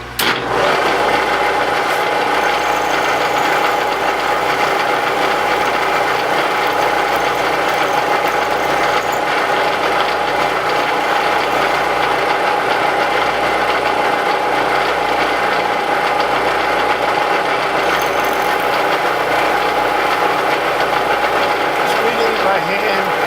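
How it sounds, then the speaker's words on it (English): A Bridgeport milling machine cuts a 3/16 T-slot for a pulley, a loud continuous motor hum with steady cutting chatter sustained throughout. "to cut a 3/16 T-way for my pulley here on the Bridgeport"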